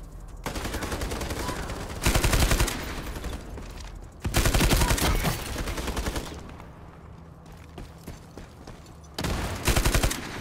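An MK light machine gun in the shooter game Ironsight fires long, loud automatic bursts in several separate runs, with quieter gaps between them.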